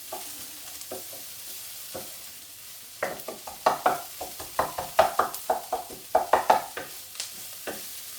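Lamb kofta curry sizzles in a pan while a spoon stirs it, quiet frying at first and then a run of close, rhythmic scraping strokes against the pan.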